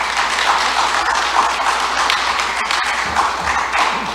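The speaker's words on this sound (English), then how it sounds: "give yourself a round of applause" Steady applause from the audience at the Auburn town meeting, a dense continuous patter of clapping that stays at an even level for several seconds with no talking over it.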